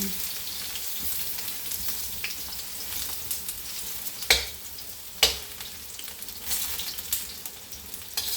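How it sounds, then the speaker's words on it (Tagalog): Eggplant frying in a pan, a steady close sizzle and crackle of hot oil throughout, with a couple of sharper pops and stirring clatters breaking through. "Tuloy-tuloy na yan guys yung ating pagprito."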